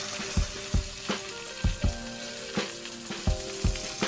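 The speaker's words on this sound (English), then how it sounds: "we're gonna let that sear for 1 to 2 minutes" A salmon fillet sears in a pan with a loud, continuous sizzle, broken by regular dull knocks and scrapes of a utensil against the pan.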